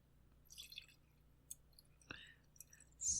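Whiskey poured from a bottle into a glass: a few faint, close drips and glugs with a brief splash, quiet against a near-silent background.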